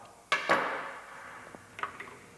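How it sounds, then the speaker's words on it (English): Handheld Eckold pneumatic planishing hammer striking a clamped sheet metal disc in a metal shop: two sharp metallic hits with a ringing tail, then a few lighter taps, all alone. "This tool is a handheld planishing hammer made by Eckold."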